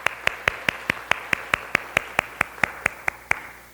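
Church congregation at a Korean Sunday worship service giving a round of welcome applause, heard as a steady run of about fifteen crisp, evenly spaced claps that slowly fade toward the end, no voices over them.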